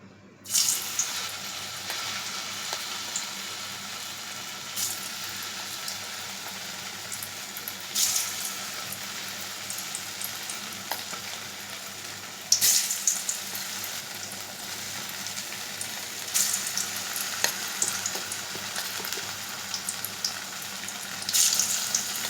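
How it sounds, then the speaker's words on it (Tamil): Paneer pieces sizzle and crackle in hot oil for paneer 65, a dense, steady hiss with periodic surges as more pieces go in, close and loud with no talking. "இப்போ நம்ம என்ன பண்ண போகிறோன்னா ஒன்றா அந்த பன்னீரை எடுத்து அதில் ஃப்ரை பண்ண போகிறோம்"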